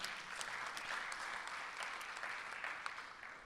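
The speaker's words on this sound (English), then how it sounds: "And you can clap for that, absolutely." An audience at a Native American caucus event claps steadily, a dense, even roar of many hands, fairly faint and distant.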